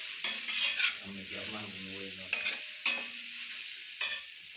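Chopped chaya mansa greens hiss and crackle as they are tossed into a hot pan for thoran, with a few scraping stirs of a spoon against the metal, close and moderately loud.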